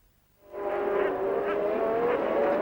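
Formula One race cars from the early 1990s era roar past on track, a loud sustained engine whine rising in pitch after a brief quiet start, steady and close for over two seconds.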